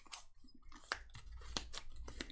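A deck of game cards for the Marvel Champions card game being shuffled, a run of soft riffling flicks and crisp snaps repeating close by with no talk over it.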